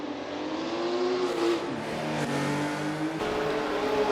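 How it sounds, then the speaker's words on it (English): 1956 Formula One cars racing at the Nürburgring during the German Grand Prix, a loud continuous engine roar with rising and falling pitch as cars accelerate and pass close by. "Collins are pushing as hard as they dare, hurling their machines around the treacherous Nürburgring with unrelenting pace"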